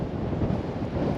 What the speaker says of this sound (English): The wind has been wicked all day.